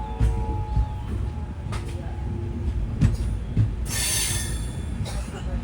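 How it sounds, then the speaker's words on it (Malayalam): A Duranto Express pulls into Mangaluru Junction at platform 2, its wheels squealing and rumbling on the rails, with a sharp high screech partway through and no talk. "കർണാടകയിലെ ഈ ട്രെയിനിൻ്റെ ഒരേ ഒരു സ്റ്റോപ്പായ മംഗളൂരു ജംഗ്ഷനിലേക്ക് ഇതാ ട്രെയിൻ എത്തുകയാണ്."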